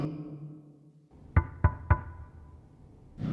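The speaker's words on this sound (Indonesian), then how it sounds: "Mina yang sedari awal bengal pun nekat mengetuk-ketuk kaca dengan niatan memancing para Watcher keluar" Three sharp, evenly spaced knocks on glass ring out close and clear in a tense horror-film night scene, set against quiet low ambience with a soft swell of sound afterward.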